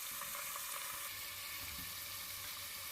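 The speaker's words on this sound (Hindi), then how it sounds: "2 से 3 मिनट तक हम मीडियम फ्लेम पर चिकन को फ्राई करेंगे।" Chicken frying in a pan over a medium flame for a creamy white jalfrezi, a steady close sizzle and crackle of hot oil running continuously with no talk.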